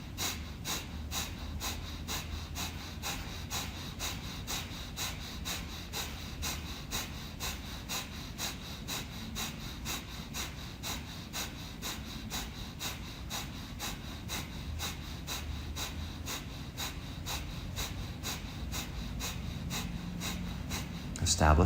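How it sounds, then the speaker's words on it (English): Kapalabhati breathing during a chakra-cleansing meditation: forceful rhythmic nasal exhalations in a fast, steady pulse of sharp puffs, close and continuous for about twenty seconds with no talking. "the next stage of the meditation is going to be Kapalabhati breathing, coupled with a breath retention"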